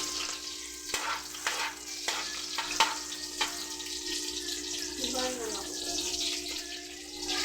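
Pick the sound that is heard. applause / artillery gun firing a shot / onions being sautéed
onions being sautéed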